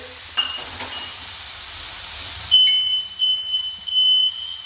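A smoke alarm emits a steady, shrill high-pitched beep that starts partway through and keeps going, over a quieter background of steak au poivre sizzling.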